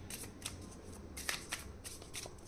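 Tarot cards being shuffled by hand, a quiet series of soft riffling flicks and light slaps in an uneven rhythm, close and faint against a low background hum.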